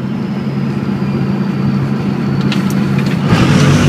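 A 6-speed Cummins diesel truck on huge tires accelerates hard through the gears, a loud, steady, deep engine drone building in strength with rising rumble, heard from inside the cab.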